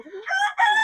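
An Ayam Cemani rooster from a small breeding flock of three hens and one cock crows loud and close, a short rising call broken by a brief pause and then a strong sustained note.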